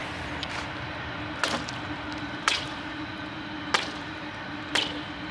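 Four sharp, ringing impacts breaking a hole in thick canal ice, each with a quick zinging, laser-like ring, spaced about a second apart over a quiet background.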